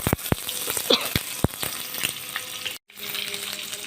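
Dried fish (chapa shutki) frying in a little oil, close crackling sizzle with sharp pops and utensil knocks, broken by a brief dropout near the end before the sizzling resumes.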